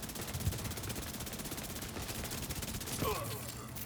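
Rapid automatic gunfire from a Striker build in The Division 2, a continuous fast-rattling stream of shots held steady at moderate loudness with a few louder impacts, under faint speech.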